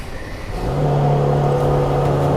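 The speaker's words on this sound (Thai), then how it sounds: "เดี๋ยวลองสตาร์ทให้ดูนะครับ" A Mercedes-AMG C 43 Coupe engine cranks and fires up, settling into a loud, steady idle with a deep rumble and faint whine, close by and alone.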